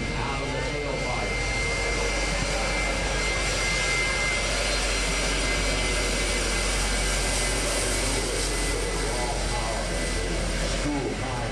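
A school bus fitted with a jet engine roars steadily at the 2011 Lincoln airshow, a loud continuous blast filling the whole stretch while a commentator talks over it on the public address.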